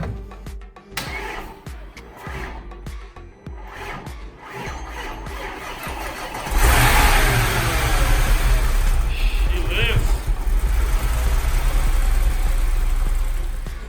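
Rebuilt 2013 Audi S6 engine cranking and starting in a garage, then settling into a loud, steady idle that fills the rest of the clip after quieter shuffling sounds.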